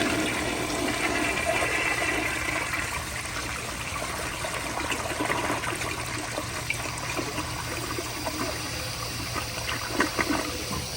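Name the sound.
1980s American Standard Afwall toilet flushing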